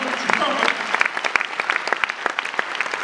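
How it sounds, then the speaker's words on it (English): An audience at a rally in Oakland bursts into applause, a dense close patter of many hands clapping with scattered louder claps and a voice over it. "Now you can clap your hands."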